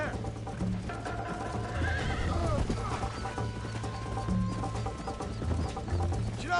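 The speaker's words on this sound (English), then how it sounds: "I think you chose the wrong horse, Miss McFarland." In Red Dead Redemption 2, horses gallop with quick, rhythmic hoofbeats and let out whinnies, while music plays and characters talk over the ride.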